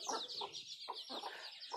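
A white desi hen with her chicks clucks in a short series of close, fairly loud clucks spaced through the moment, with no voices.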